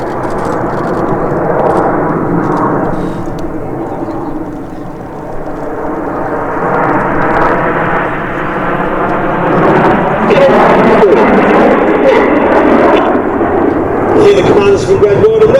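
Red Arrows display jets roar through a loop at an air show, a loud sustained engine wash swelling and fading across the sky while a commentator talks over it.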